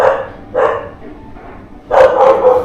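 A dog barks twice, close and loud, a short bark followed by a longer burst of barking, with no talk over it.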